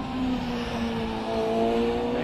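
A Porsche Suzuki hillclimb car in the 1600cc class climbs Prescott hill at the Midland Hillclimb Championship, its engine note droning loud and steady and then rising as it accelerates, heard fairly close with no talk.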